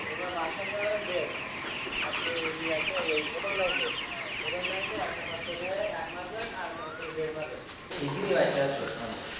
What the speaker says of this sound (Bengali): দ্বিতীয় তলার মুরগি দেখালাম, নিচতলার মুরগি দেখালাম